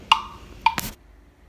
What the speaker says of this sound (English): I still have my metronome on